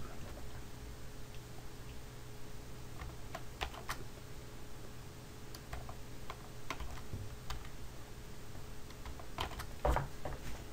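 Keys clatter on a computer keyboard in short, irregular bursts of light clicks. The typing is close and soft, with a steady hum from the room underneath.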